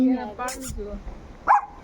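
A dog barks at a village home in Sikkim, a short sharp bark near the end that follows a stretch of nearby talking.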